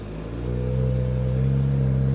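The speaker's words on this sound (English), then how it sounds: "This is FVD side muffler delete." A Porsche 991 GT3 flat-six with an FVD side muffler delete, Brombacher valve delete and OEM center muffler revs up into a loud, steady, rich exhaust drone, close by with no talk.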